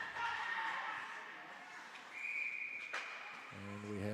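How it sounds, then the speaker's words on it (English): During a junior B beer-league ice hockey game, a referee's whistle gives a single short shrill blast of about half a second. It rises over arena murmur and a commentator's voice, followed by low thuds. "And we have another whistle."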